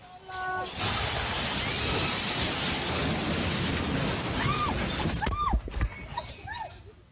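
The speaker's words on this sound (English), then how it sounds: "Buildings that were damaged in Sunday's earthquake came crashing to the ground." Earthquake-damaged buildings on Lombok come down in a loud, sustained rumbling roar that starts abruptly, with a few impact-like jolts and distant cries rising over the din later on.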